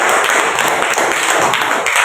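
A group of children clap together, a dense, fast patter of many hands close by, continuous for a couple of seconds.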